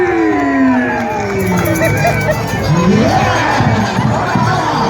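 A festival crowd at Huayanay shouts and cheers in a loud, continuous roar with rising whoops, clapping blended into the steady din.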